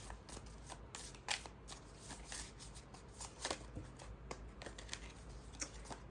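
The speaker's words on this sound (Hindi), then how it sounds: "ओके, लास्ट कार्ड लेते हैं इस डेक से।" Tarot cards shuffled and drawn from a deck, a close, soft, steady riffling and flicking of card stock with small snaps as cards are pulled.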